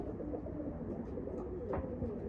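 Pigeons in a coop cooing softly, low murmuring calls under a quiet background hum, with a brief sharper sound near the end.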